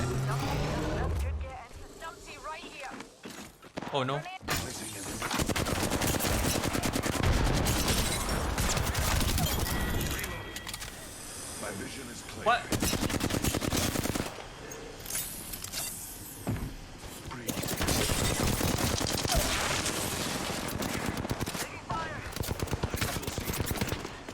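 Rapid gunfire from Apex Legends during a sniper fight, bursts of shots crackling densely through most of the stretch with brief lulls, loud and close, while a player talks over it.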